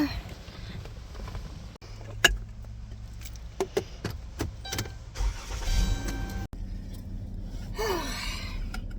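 A car heads off down the road as a storm picks up, its engine and road noise close and fairly loud, mixed with brief clicks, a sharp gasp and breathy vocal sounds.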